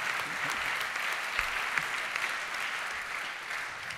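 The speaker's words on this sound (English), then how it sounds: "Round of applause, please." Audience clapping for a jury member being introduced at a startup pitch competition final, a steady, moderately distant wash of applause that holds evenly throughout without talk over it.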